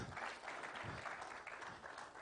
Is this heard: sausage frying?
no